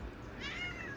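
A single short cat meow, faint and brief, rising then falling, heard close by.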